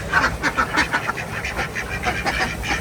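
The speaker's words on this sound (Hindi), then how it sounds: "नहीं बतखें आ गई हैं जी।" A flock of farm ducks quacks and honks nearly without pause, many overlapping nasal calls close by, loud and busy throughout with no talking.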